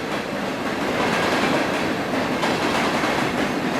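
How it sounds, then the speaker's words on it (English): A long train rolls past steadily, a continuous rumbling wash of wheels and rail noise with faint clickety-clack, fairly close and loud throughout with no talk. "That's a long train."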